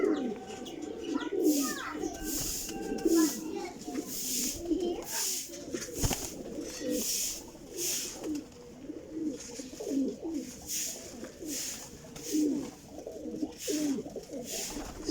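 Rampuri pigeons coo in a steady, repeating rhythm at close range, with soft warbling calls layered over the background; a few faint chirps from other birds come and go.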